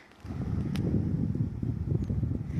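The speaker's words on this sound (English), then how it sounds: "It's a little bit windy today" Wind buffets a microphone outdoors at a bike track, a steady low rumble with gusty fluctuations throughout and no voices.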